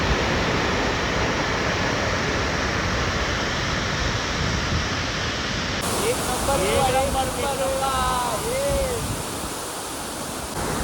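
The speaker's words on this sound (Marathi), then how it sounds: "पाण्याचा फ्लो बघा किती आहे मजबूत एकदम" Water rushes with a loud, steady roar at Vasundhara waterfall in the Sahyadri hills, a heavy flow pouring through a full dam's gate, and someone speaks over it partway through.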